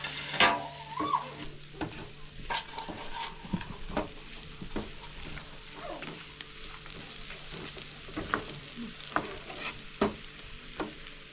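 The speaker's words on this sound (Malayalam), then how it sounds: "നല്ല രീതിക്ക് ഒന്ന് ഇളക്കി പിടിപ്പിക്കട്ടെ." Crab curry frying in a pan, a spoon scraping and clinking against the metal in irregular strokes over a low sizzle, close and fairly quiet.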